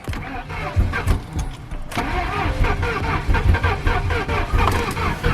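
A turbocharged Mercury Marauder engine cranks and catches, then runs roughly with uneven bursts close by.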